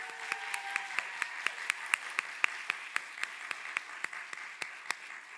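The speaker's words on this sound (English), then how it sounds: "if we can give her a round of applause" Applause from the audience at a physician assistant class end-of-program ceremony: steady, moderately faint clapping with distinct individual claps spread evenly throughout, heard from a distance.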